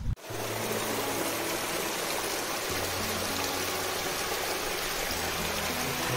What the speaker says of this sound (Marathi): पातळीवरून वाहणारं पाणी